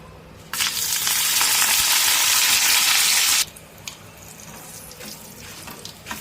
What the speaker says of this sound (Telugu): ఆయిల్ హీట్ అయింది. ఇప్పుడు ఇందులో మనము ఎండుమిర్చి, కరివేపాకు వేసుకుందాం.